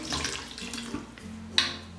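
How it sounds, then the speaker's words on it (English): Water pours into a pan over soaking vegan ingredients, a short gurgling trickle with a brief splashy peak near the end, fairly close and moderate in volume. "I'm just gonna like barely cover them with water"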